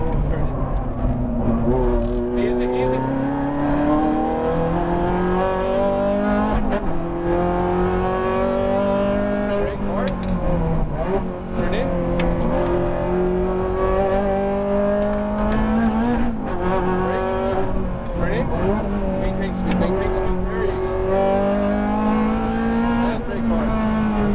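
A Ferrari F430 on a race track revs hard and shifts through its gears, the engine note climbing and dropping repeatedly, loud and close for the whole stretch, with a voice occasionally audible beneath it.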